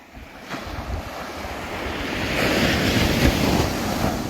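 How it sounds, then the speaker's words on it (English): Ocean waves wash onto a calm beach in a steady, broad rush that swells slightly louder midway, mixed with buffeting wind noise against the microphone and no voices. "So this is the beach."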